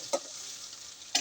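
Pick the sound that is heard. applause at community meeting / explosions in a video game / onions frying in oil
onions frying in oil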